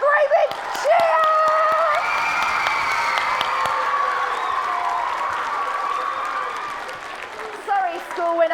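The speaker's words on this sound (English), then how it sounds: "Let's give them a great big cheer." An audience at a children's book award ceremony cheers for school winners, with high excited shouts and whoops from young voices sustained over several seconds, along with some clapping.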